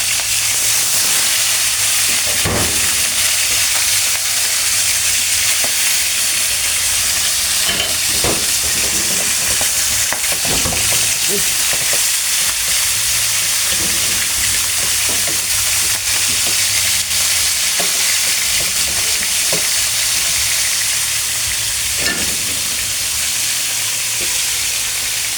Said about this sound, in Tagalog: prito na tayo.